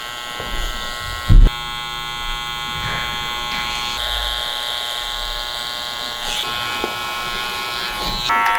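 Electric hair clippers shape the temples during an undercut haircut, giving a steady, close, continuous buzz with slight changes in pitch and a brief louder knock near the start.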